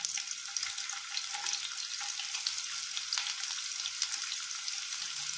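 Chopped onion sizzles in refined oil in a pan, a steady bright hiss of frying with faint crackles, close and continuous with no talk.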